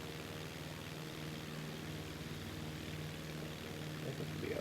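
Propeller airplane in flight in Microsoft Flight Simulator 2024, a steady droning engine hum with a broad airy rush, constant and moderately loud throughout, with no voices.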